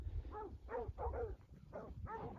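A ranch cattle dog barks several times in a quick, uneven series, sharp yips and woofs fairly close by with no talking.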